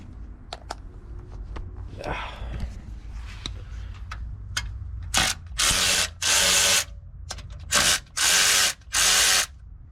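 A ratchet tool works loose tall spring fasteners, with quick clicking ratchet runs and then several loud, close bursts of mechanical whirring in a steady rhythm.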